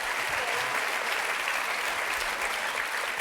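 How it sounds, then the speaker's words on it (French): A television game-show studio audience claps in steady, dense applause that fills the whole stretch without a break. "On peut quand même applaudir Sébastien parce qu'avec 15, on n'était pas loin."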